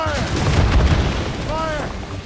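Ship cannons firing in the naval combat of Assassin's Creed Rogue: heavy, rumbling booms roll together into a loud, continuous barrage, with shouted voices mixed in.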